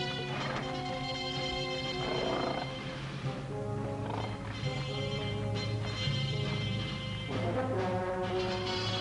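A horse in a western TV series whinnies a couple of times and its hooves clop along, all under a continuous orchestral score.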